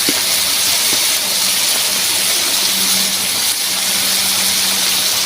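Crab curry spices with turmeric and Kashmiri chilli powder sizzle steadily in a hot pan while being sautéed, a constant loud hiss with no pauses and no talk.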